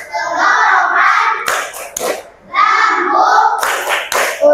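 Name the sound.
children clapping in a rhythmic clapping game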